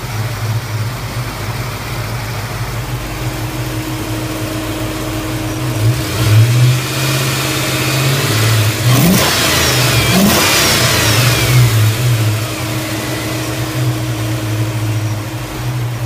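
A 1995 Mustang GT 5.0 pushrod V8 with an automatic transmission idles loudly up close, then revs up sharply a few times in the middle before easing back to a rough, steady idle.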